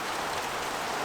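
Steady, dense rain pours down in a constant hiss, with no voices or other sounds breaking through.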